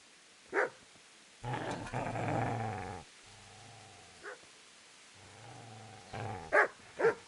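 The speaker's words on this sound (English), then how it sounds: "Get away, you mutt!" A dog in the medieval game Kingdom Come: Deliverance growls in low rumbling bursts, with sharp barks and yips breaking in at the start and end, close and fairly quiet.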